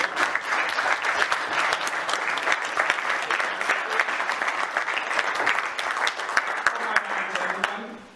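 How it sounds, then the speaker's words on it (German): Sustained applause from a gathered audience at a club reportage event, dense overlapping claps holding steady for several seconds before tapering off near the end, with no voices on top. "Applaus."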